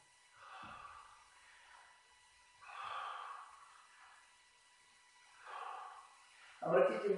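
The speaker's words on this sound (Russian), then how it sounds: "Вдохнул плюс дыхание." Slow, deep breaths during a spine exercise, three long airy inhales or exhales spaced a couple of seconds apart in a quiet room, ending with a brief louder sound.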